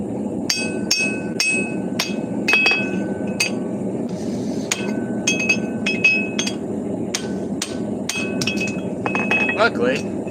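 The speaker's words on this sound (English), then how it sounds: "Luckily, I used lube on my hammer punch, so it didn't have any problem going out." Sharp metallic hammer blows ring out as a punch is driven out of a forged hammer head, the strikes coming in irregular bursts of several quick hits with bright clinking overtones, close and loud.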